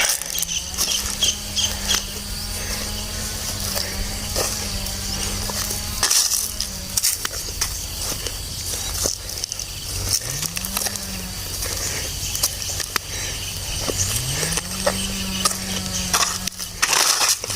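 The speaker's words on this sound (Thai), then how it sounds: "มีเสียงเครื่องตัดไม้" A distant chainsaw cutting wood drones at a steady pitch, cutting out and revving up again a couple of times amid outdoor insect noise and crackling.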